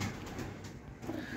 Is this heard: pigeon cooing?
yes